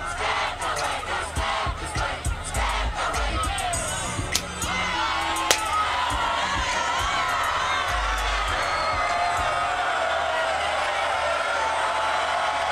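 A crowd cheers and shouts throughout a music video, with dense, loud, sustained crowd noise, whoops and scattered sharp bangs, some vocal layers woven in.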